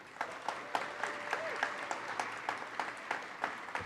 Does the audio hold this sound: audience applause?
yes